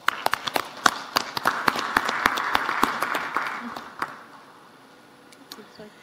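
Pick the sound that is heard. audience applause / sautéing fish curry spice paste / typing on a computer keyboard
audience applause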